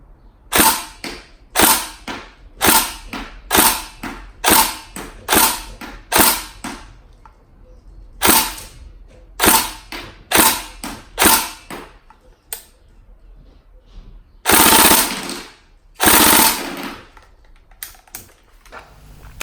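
A fully upgraded Tokyo Marui SCAR-L airsoft rifle fires a string of single shots from repeated trigger taps, each a sharp snappy crack at an even rhythm, followed after a pause by a few more shots including a brief burst.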